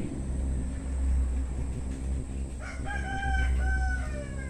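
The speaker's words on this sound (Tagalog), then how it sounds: "Tapos yung mga manok, kailangan mong bugawin." A rooster crows nearby amid a low hum of background noise, with faint clucking from other chickens.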